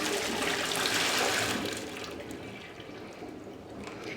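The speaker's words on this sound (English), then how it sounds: "To open it up, just gonna pour out all the water" Descaling water pours out of a kettle in a steady, close splashing gush that is loudest early on, then eases into a softer, thinner trickle.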